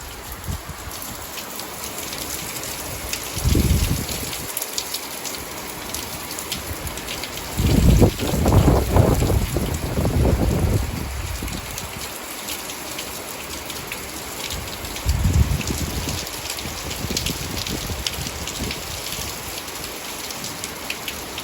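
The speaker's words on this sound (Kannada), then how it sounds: "ಮಳೆ ನೋಡಿ ಅದ್ರ ಸೌಂಡು" Steady afternoon rain pours down outdoors, a dense continuous hiss of drops on surfaces, swelling into heavier gusting bursts several times, with no voices.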